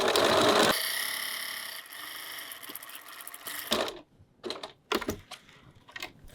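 Sewing machine stitching a zipper pouch at a 6 mm stitch length runs in a loud continuous whir, then stops and gives several short separate bursts of stitching, close up with no talking.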